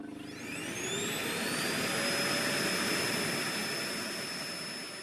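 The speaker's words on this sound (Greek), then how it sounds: "Στοχεύω τη σκούπα, Δρίστοπόπιγγα, πάτα το κουμπί" A vacuum cleaner switches on during a children's school stage play, its motor spinning up from a low hum into a loud, steady whine with a rising high-pitched tone that holds for several seconds.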